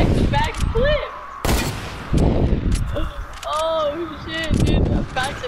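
Fortnite gunfire in a video game: several sharp, loud shots in quick bursts mixed with in-game effect tones, while players talk excitedly over the action.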